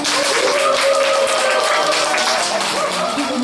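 Clapping from an audience opening a radio book concert, loud and close, mixed with voices and tonal sounds throughout the short stretch.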